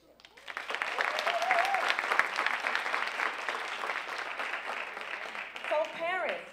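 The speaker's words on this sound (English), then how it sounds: "I want to give you all a hand, a round of applause as well" Applause from a convocation audience at Miami-Dade College's first-year event, a dense sustained patter of many hands filling the room, with a voice briefly rising above it near the end.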